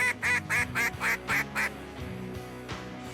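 A Zink duck call blows a quick run of about seven loud, evenly spaced quacks, close and clear, then stops and leaves a quieter background.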